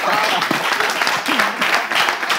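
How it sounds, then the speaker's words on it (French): A crowd applauds steadily and loudly throughout, with a voice briefly audible over the clapping. "On applaudit, s'il vous plaît"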